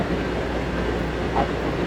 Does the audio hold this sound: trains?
yes